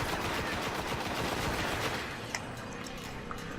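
A gun in the video game Destiny fires rapidly in a player-versus-environment fight, dense automatic shots that give way to a few sparse cracks near the end.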